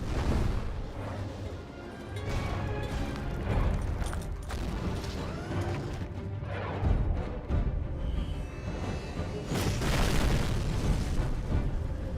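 Vehicles destroyed by a UFO in the sci-fi shooter Dark Void: a dense, continuous barrage of explosions, booms and creaking metallic mechanisms under loud game noise, with no talk.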